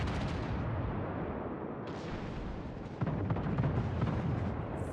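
Heavy naval guns booming in a warship battle game, secondary batteries firing around a Bismarck, a dense rumbling barrage that swells into a louder burst partway through, with no speech.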